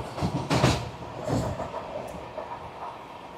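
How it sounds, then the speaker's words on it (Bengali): Kolkata–Sairang Express pulling into Malda Town station at night, a rumbling train interior with muffled clanks and rattles that gradually ease, moderately loud with no talk. "আমাদের ট্রেন ঢুকছে মালদা টাউন"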